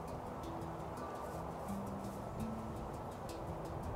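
A bird creature calls in a Jurassic Minecraft world, giving faint, short cooing tones against a steady background hum.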